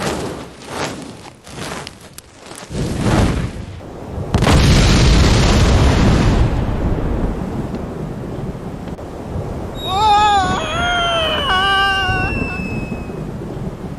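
A bomb goes off in the Monkey Island 2: LeChuck's Revenge adventure game, a loud booming blast with a rumbling decay, followed by a swooping, wavering electronic tone near the end.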